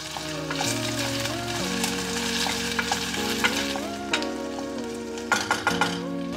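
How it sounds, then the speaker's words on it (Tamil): Onion and medium-size potato sauteing in a pan, with a steady, close sizzle and repeated stirring scrapes throughout, and no talking. "இதில் நம்ம ஒரு மீடியம் சைஸ் பொட்டேட்டோ இதை சேர்த்து வதக்கிக்கலாம்"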